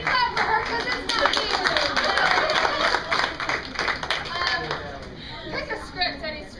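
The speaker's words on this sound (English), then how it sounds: "Everybody clap for her" A group claps enthusiastically for several seconds, the applause swelling then thinning out, with a voice or two speaking over it.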